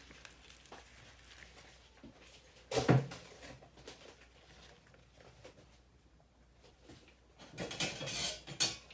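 A knife cutting into small avocados and prying out the seed, heard as quiet scraping and tapping with a sharp knock near the start and a louder clattering scrape toward the end, close up and without talk.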